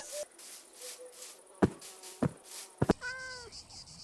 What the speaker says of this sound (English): Okay, I've heard the kitty cat.